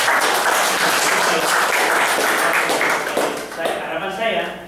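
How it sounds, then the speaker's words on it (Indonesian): An audience applauds Pak Kandu at the opening of a Harvest Agency office in Mojokerto, a steady dense wash of clapping that thins slightly toward the end, with some voices mixed in. "Tepuk tangan untuk Pak Kandu ya."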